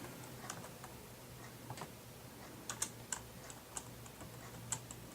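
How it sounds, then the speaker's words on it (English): Number keys being tapped on a computer keyboard while filling in a file name on an electronic form, a run of light separate clicks in an uneven rhythm over a faint steady hum, with no talking. "I'm going to type"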